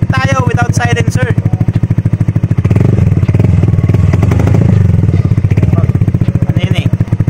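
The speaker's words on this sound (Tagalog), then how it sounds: "NMAX version 2 M1 full exhaust. Pakinggan natin guys yung sound check nito." A Yamaha NMAX v2 scooter with an M1 full exhaust system and no silencer idles loud and close, a deep rapid thumping that swells into a couple of revs, with a voice talking over it.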